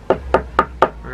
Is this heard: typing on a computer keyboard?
no